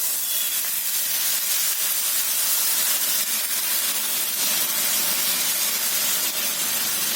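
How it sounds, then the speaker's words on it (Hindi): Rava dosa batter of semolina hits a hot oiled tawa, giving a continuous loud hissing sizzle that stays even and unbroken from start to finish. "तवा जब अच्छी तरह गर्म हो जाए तो ये बैटर को हम डालेंगे"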